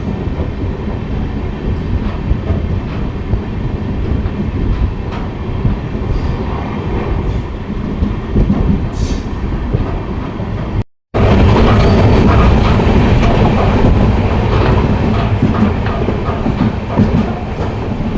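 A superfast express train runs at speed on the Amritsar–Bikaner line, a loud, steady roar of wheels and rattling coaches with faint clickety-clack. A brief near-silent gap cuts in partway through before the rumble resumes even louder.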